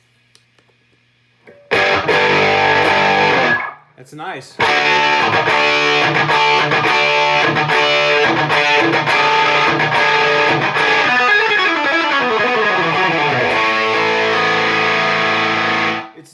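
Electric guitar played through a Rat distortion pedal with the gain turned low, loud crunchy chords and ringing notes after a brief pause, ending in a sustained decaying chord; a voice speaks briefly.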